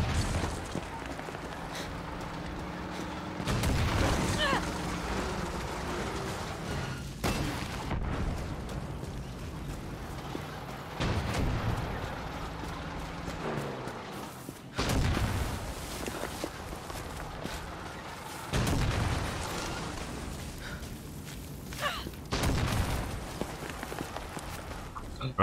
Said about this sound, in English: I got a tank after me, haven't I?